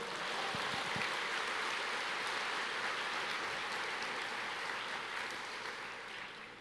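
A church congregation claps and applauds together, a dense, steady wash of hand claps that holds loud and even before easing slightly toward the end.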